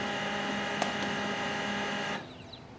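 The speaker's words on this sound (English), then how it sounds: "we have to wait for the printer to restart" An HP LaserJet M139we printer restarts with a steady mechanical whir and hum, broken by a couple of faint clicks, before the motor noise drops away near the end.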